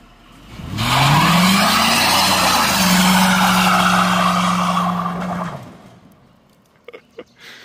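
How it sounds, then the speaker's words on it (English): A 1968 Ford doing a burnout: the engine revs up and holds a loud, rising roar while the tires spin with a harsh hissing squeal for about four seconds, then it cuts off, followed by a few faint knocks. "Just keep your foot on the brake, give it a little bit of gas, it'll start spinning"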